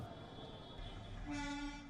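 A Mumbai commuter train on the overcrowded colonial-era rail network rumbles past with rattling wagons, then a horn sounds in a brief sustained toot, all fairly faint and distant.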